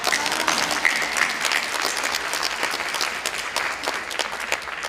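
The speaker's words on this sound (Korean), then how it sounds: "다시 한번 박수 좀" A large crowd applauds a choir steadily, a dense, sustained wash of clapping at even loudness throughout.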